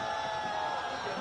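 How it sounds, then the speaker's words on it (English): A football crowd at Jinnah Stadium during a Pakistan versus Afghanistan Asian Cup qualifier roars in a dense, sustained wash of cheering, distant and steady throughout the brief moment. "spurring on the crowd. This is what this Jinnah Stadium crowd has been looking for"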